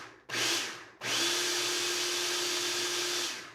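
Food processor pulsing pumpkin cheesecake filling with pumpkin pie spice: a short motor burst, a brief stop, then a longer steady whirring run that winds down, loud and close with no voices over it.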